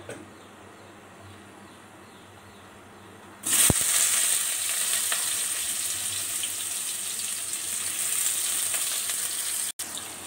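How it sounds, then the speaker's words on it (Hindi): Chopped onions dropped into hot oil for a chicken potato curry burst into a loud, steady sizzle after a quiet start, frying continuously and close up with no talk over it. "ऑयल जो है वो गर्म हो चुका है। इसमें हम अनियन ऐड कर देते हैं और अनियन को करेंगे सौते।"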